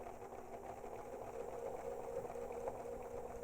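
An APQS quilting machine zigzag stitches binding onto a quilt with a soft, steady mechanical hum and faint rhythmic needle ticking, quiet and continuous with no talk.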